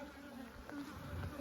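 Honey bees buzzing during a commercial beekeeper's hive inspection, a steady, faint, close hum of many insects with no talking.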